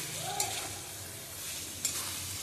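Fried potatoes are stirred and roasted in masala in a pan, giving a soft steady sizzle with two brief sharp scrapes of a spoon, close and fairly quiet, without talking.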